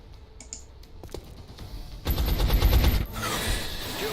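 Gunfire in XCOM: Enemy Unknown starts with a few sharp clicks and shots, then erupts into a loud, dense burst of rapid automatic fire lasting about a second, followed by a lingering noisy tail.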